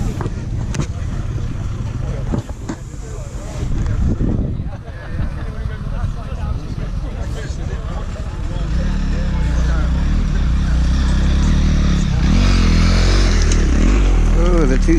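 A two-stroke trials motorcycle at an off-road trial revs loudly and climbs past close by, its crackling engine rising and sustained under spectators' speech.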